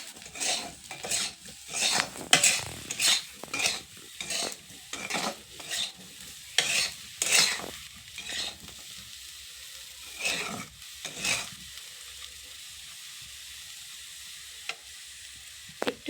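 Food frying in a pan is stirred in quick, rhythmic scraping strokes over a bubbling sizzle and light clinks of utensil on metal. The stirring stops partway, leaving a quieter sizzle with a few isolated taps.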